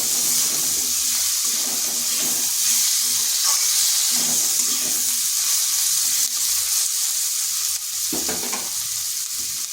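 Potatoes frying with turmeric and salt in a pan for a low-oil spinach recipe, a continuous loud sizzle with intermittent stirring scrapes and clinks throughout.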